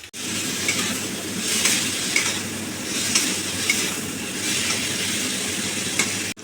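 Bitter gourd sautéing in a pan with cumin, coriander, ginger, turmeric and Kashmiri chili powder, a continuous close sizzle broken by repeated stirring scrapes every second or so.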